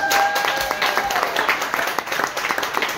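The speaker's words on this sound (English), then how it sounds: "Everybody applaud Christian." A small audience claps and cheers steadily at a live performance in a coffee shop, dense and close throughout.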